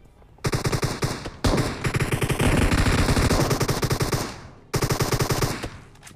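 An M249 machine gun fires in PUBG Mobile in three loud, rapid full-auto bursts. The long middle burst rattles for nearly three seconds, with short pauses between the bursts.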